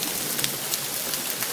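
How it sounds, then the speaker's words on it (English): Hail falls outdoors as a dense, steady hiss of small impacts, close and continuous with no voices. "It is hailing."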